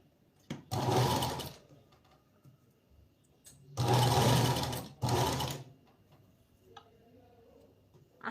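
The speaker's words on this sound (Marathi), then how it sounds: "इथून आपल्याला पकडायचं इथपर्यंत पहिली मोठ्या टाक्याची शिलाई घ्यायची आहे" A sewing machine stitches a blouse seam with long stitches in two short bursts, each about a second long and separated by quiet pauses. Both bursts sound close and clear, and faint handling noises fall between them.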